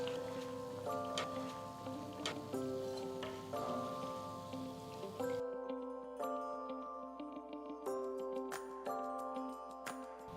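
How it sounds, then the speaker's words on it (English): Bread slices frying in a pan give a soft, steady sizzle like light rain, lying under tuneful background music for the whole stretch. "Fry all the slices in this manner and keep them aside."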